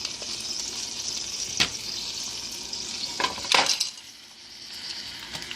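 Fish frying in a shallow film of grease in a pan, a steady close sizzle with a few sharper crackles and stirring clinks, with no talking.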